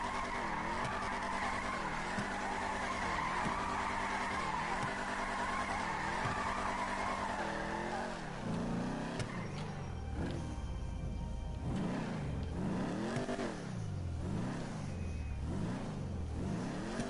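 A Camaro in GTA V spins donuts, its engine roaring steadily as the tires skid and squeal, and the pitch swings in repeated waves as the car circles and revs, loud and close.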